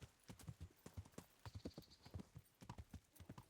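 Horse hooves clip-clop in a steady walking rhythm in the medieval game Kingdom Come Deliverance, close and distinct, with a faint whinny-like tone briefly in the background.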